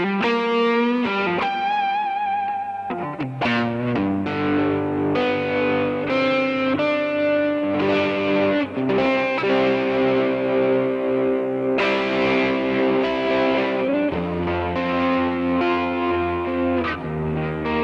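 A 2012 Chibson Les Paul in '59 Custom Classic Heritage Cherry plays through a Yamaha THR10C amp on the US Blues setting with wide hall reverb, giving loud, continuous distorted chords and sustained notes with no talking.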